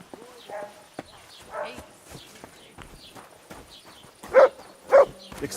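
A dog in the medieval role-playing game Kingdom Come Deliverance 2 gives three loud, sharp barks near the end, after stretches of character dialogue and soft footsteps.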